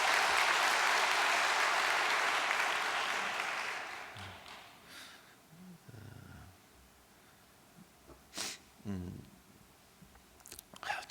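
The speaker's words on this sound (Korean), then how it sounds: "참 다시 한번 감사의 박수를 부탁드리겠습니다" Applause of thanks from a gathered audience at a Korean community address, a dense, steady wash of clapping for about four seconds before fading into quiet room noise with scattered small sounds.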